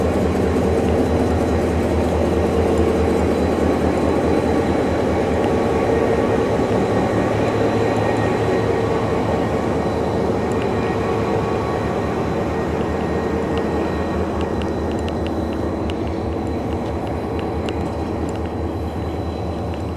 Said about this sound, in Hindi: लोकोमोटिव HGMU 38 अटैच किया गया था आज की इस फरीद एक्सप्रेस में।